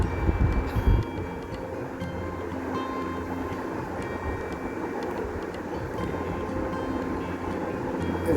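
A low, continuous rumble of a small amusement-park dragon train ride rolling along at a market in Agargaon, steady and moderately close, with faint background noise.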